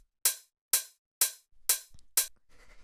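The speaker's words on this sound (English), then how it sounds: "Next thing that we have here is this first hi-hat" Layered hi-hat sample from a minimal dub house track, five crisp bright strikes with short decaying tails at an even pulse, each alone in silence, followed by a fainter, softer trailing hit.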